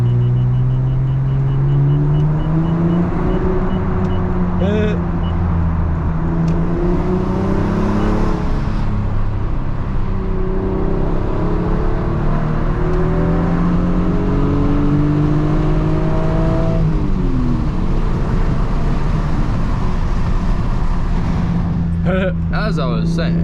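A manual Lexus SC300 with a 2JZ-GE engine drones steadily as it drives through a tunnel in the evening, its engine pitch rising and falling through gear changes, with a hollow, enclosed quality and a faint whir throughout.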